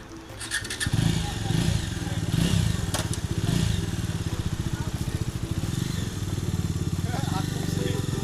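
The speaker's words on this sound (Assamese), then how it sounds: "এই ডমিনাৰ গাড়ীখনৰ চাউণ্ডটো পুৰা একদম" A Bajaj Dominar motorcycle engine runs close by with a steady, deep, rapid thumping pulse and some clattering, while people talk over it.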